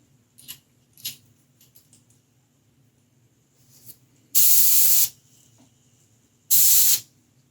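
Airbrush with a locking nut spraying blue Mr. Color paint onto a sculpted figure: two loud, steady hissing bursts of about a second each, separated by quiet, with a few small clicks and handling taps before them.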